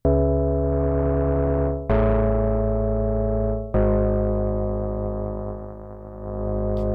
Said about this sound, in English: Then we have some distortion.